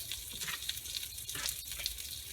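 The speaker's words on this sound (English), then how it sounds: "So since it's sizzling now, we know it's hot." A hot pan sizzles steadily with crackling, spitting bursts, close and fairly loud, with no voices.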